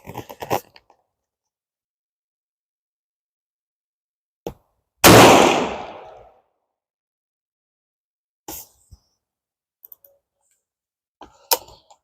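Several sharp, isolated rifle shots fired at a range while sighting in a CVLife 6-24×50 AOEG scope, one loud blast with a long decaying tail standing out among fainter cracks, separated by silence.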